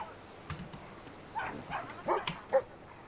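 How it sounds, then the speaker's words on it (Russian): Small dog barking and yipping in the video game Brothers, a few short, fairly faint yelps scattered over quiet game ambience with no talk. "Собака, смотрите, какая барабака."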